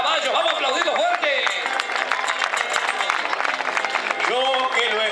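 A crowd at a rural gaucho festival with a horse-breaking rodeo applauds a rider who fell from his horse. Steady clapping and crowd noise run throughout, heard alongside an announcer talking over a loudspeaker.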